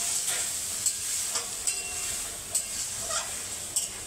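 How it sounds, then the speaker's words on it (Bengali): Potatoes frying in a pan as water is poured in for an ilish fish curry with raw banana and eggplant, giving a steady close sizzle with faint stirring clicks. "আমি জল দিয়ে দিচ্ছি।"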